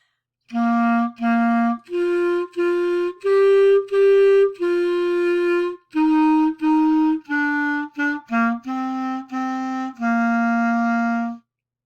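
A clarinet plays a slow, simple melody of separate held notes, some repeated, clear and close with short breaths between phrases.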